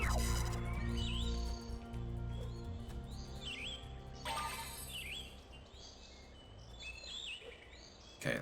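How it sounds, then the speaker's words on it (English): Repeated chirping bird calls in the video game Spyro: Enter the Dragonfly, several bright rising-and-falling phrases spaced across the stretch over a low hum of game music and ambience. "Pretty noisy birds. A lot of bird song happening."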